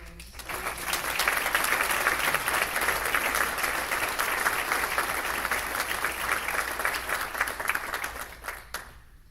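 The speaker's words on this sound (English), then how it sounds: "another round of applause for these people" Sustained, loud applause from an audience at an LPN graduation and pinning ceremony, building quickly and holding as a dense wall of clapping before stopping abruptly near the end.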